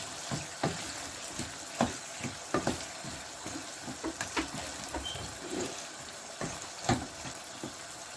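Aloo keema of minced meat and potatoes fries on full flame, a steady sizzle with repeated stirring scrapes and clinks of a spoon against the pan, no talking.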